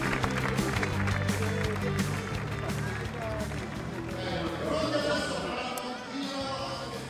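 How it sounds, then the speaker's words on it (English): An audience applauds Ferrari drivers Charles Leclerc and Lewis Hamilton at the Scuderia Ferrari team's driver presentation, with sustained, dense clapping and crowd noise running under a speaking voice. "let's give a big round of applause to our two drivers, Charles Leclerc and Lewis Hamilton"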